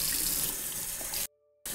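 Tap water runs steadily over a tie-dyed shirt as bleach is rinsed out, a continuous close splashing stream that cuts off briefly near the end before resuming.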